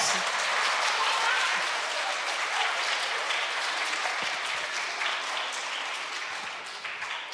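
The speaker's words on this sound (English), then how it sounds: "let's give them a nice round of applause" Audience applause at an elementary school Make-A-Wish presentation, a dense, steady wash of many hands clapping that holds for several seconds and eases slightly toward the end.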